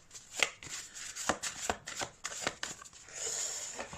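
Tarot cards being shuffled by hand, a close run of soft riffling slaps and flicks in an uneven rhythm, ending in a brief smoother rustle.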